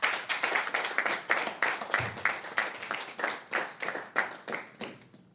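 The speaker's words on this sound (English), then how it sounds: "Round of applause, please." A small audience at a trading master class event claps in a steady, brisk patter of individual hand claps, fairly close and moderately loud, gradually thinning out toward the end.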